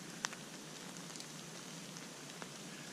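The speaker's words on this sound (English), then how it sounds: "Here comes that rain back again." Rain falls outdoors as a faint, steady patter with a few sharper drips, no talk over it, during a stop to make feather sticks for a fire.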